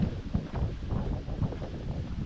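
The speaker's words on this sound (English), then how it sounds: "The wind is just howly today" Gusty wind on a mountain brook trail buffets the microphone in a continuous low roar that rises and falls without pause, with no voices or other clear sounds.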